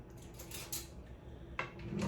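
A metal spoon scoops cooked cauliflower from a kitchen sieve, giving a few sharp clinks and scrapes spaced apart over a low background hum.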